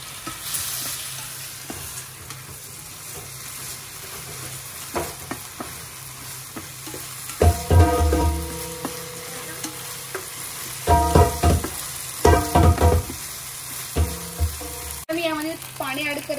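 Rice and dal tipped into vegetables frying in a pot on an electric cooker, with a run of sizzling and scraping stirs in bursts, some water-like pouring, and brief talk nearby.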